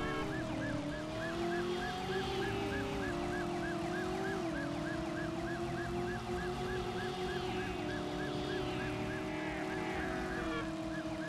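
Police car siren in the PS1 video game Driver, a steady wailing tone looping continuously over game music and engine noise, loud and sustained throughout.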